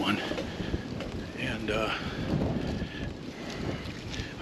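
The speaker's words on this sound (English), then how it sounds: "Man, it is a windy one." Strong outdoor wind buffets the microphone on an open Kansas hunting spot, a steady loud rumbling roar that fills the whole stretch without letup, with faint voice traces mixed in.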